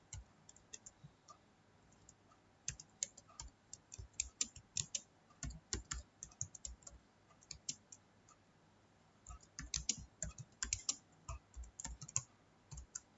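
Typing on a computer keyboard in Notepad, irregular clusters of light clicks with short pauses, close and fairly quiet, no talking.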